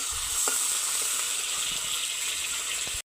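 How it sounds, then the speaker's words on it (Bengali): Potatoes fry in a wok with nigella seeds, giving a close, constant crackling sizzle with a couple of faint utensil clicks before it cuts off abruptly. "আলুটা দেওয়া হয়ে গেলে আবার লাল লাল করে আলুটা ভাজবো।"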